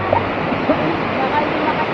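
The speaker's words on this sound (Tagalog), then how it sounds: "Dito sa falls" A waterfall near Metro Manila in the rain, a steady broadband rush of falling water, loud and close, continuous without break.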